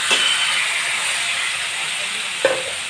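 Washed rice poured into hot ghee with cardamom, a steady loud sizzle and hiss running throughout, with a faint clink near the start and another near the end.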